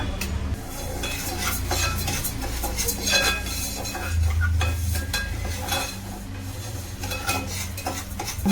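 Moong dal being stirred and dry-heated in a cooking pan, with a spoon scraping and clinking against the metal nonstop over a low, steady sizzle, close by and without speech.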